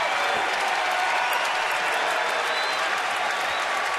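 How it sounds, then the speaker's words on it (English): Baseball crowd at a Minnesota at Baltimore game applauding a strikeout, a steady broad wash of distant clapping and crowd noise filling the stadium throughout. "the fans applauding for the strikeout"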